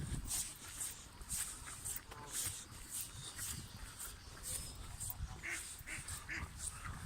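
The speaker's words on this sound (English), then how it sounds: "Loads of ducks" Ducks at a lake quack repeatedly in short, scattered bursts at moderate distance over a noisy outdoor background, with no talking.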